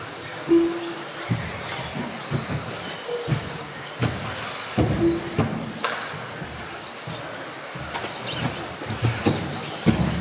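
A Tamiya TRF201 RC buggy races around an off-road track with jumps. Its electric whine and buzz run steadily against a noisy outdoor background, with the motor surging and fading as it passes.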